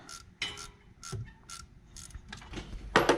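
A ratcheting gear wrench working 10mm bolts, scattered short metallic clicking bursts with pauses between, close and fairly quiet, no speech.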